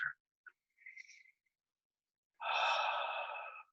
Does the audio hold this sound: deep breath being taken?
yes